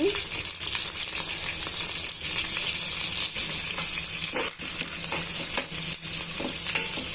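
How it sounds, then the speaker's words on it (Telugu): Chopped onions and green chillies fry in a pan, giving a steady, close sizzle that runs the whole time with scattered scraping stir sounds and occasional clicks; no one speaks. "ఉల్లిపాయలను పచ్చిమిరపకాయలని ఒక వన్ మినిట్ అలా వేయించేసుకున్నాము"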